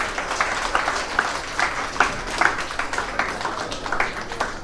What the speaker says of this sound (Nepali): उहाँलाई फेरि पनि हामी ठुलो ठुलो ताली दिनेछौँ